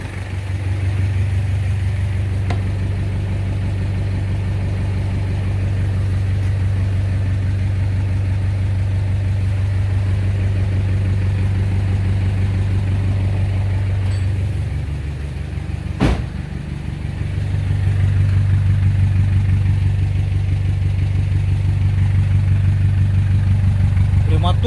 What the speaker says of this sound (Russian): Прямоточный выхлоп